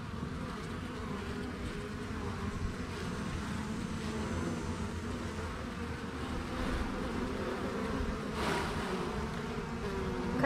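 A dense swarm of honeybees hums steadily and quietly during a hive cutout, a continuous low buzz with no voices.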